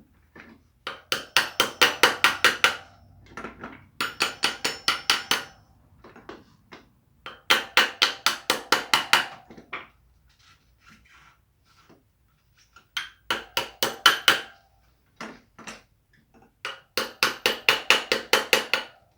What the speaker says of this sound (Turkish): Bunu da yine çekiç yardımıyla yerine oturtturuyoruz